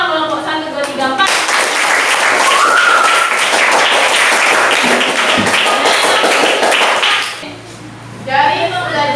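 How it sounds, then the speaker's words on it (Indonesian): A primary school class gives a loud, dense round of applause for all the groups, the clapping lasting several seconds before stopping, with children's voices heard before and after. "untuk terakhir kalinya tepuk tangan dulu untuk semua kelompok 1, 2, 3, 4"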